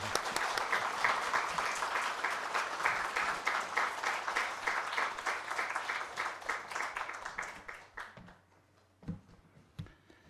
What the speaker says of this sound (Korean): 우리 박수로 우리 장로님 환영하면 어떨까요?